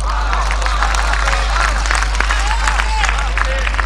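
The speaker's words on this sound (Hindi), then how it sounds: "तो दिनकर की बात पे आपकी तालियां उठे" Audience applause and cheering at a Hindi poetry recitation, a dense, steady wash of clapping with crowd voices mixed in, loud and sustained throughout under a constant low hum.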